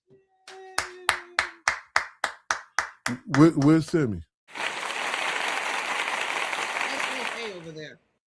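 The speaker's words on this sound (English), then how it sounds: "Let's give her a round of applause." A string of about ten steady rhythmic claps is followed by a brief spoken voice, then a crowd erupts into sustained, full applause for several seconds before it cuts off.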